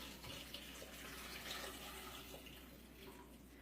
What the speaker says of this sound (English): This is my broth, and I'm going to add that.